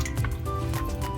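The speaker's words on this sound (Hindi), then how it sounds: "इसमें ये वाली जो मछली है इसको हमने इसमें डिप कर देना है" A fish is dipped into a bowl of water mixed with ajwain, salt and vinegar, giving a brief, close liquid slosh and squish over a steady low background hum.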